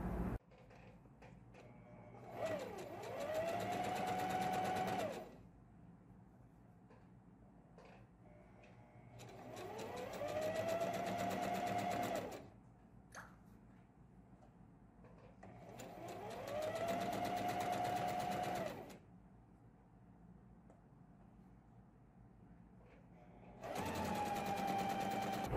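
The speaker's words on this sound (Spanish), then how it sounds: "Así lo colocamos así y pasamos costura también realizando un zigzag." A sewing machine runs zigzag stitching on a girl's dress in four long bursts of about three to five seconds each, rising and settling in motor pitch, with quiet gaps and light handling of the fabric between them.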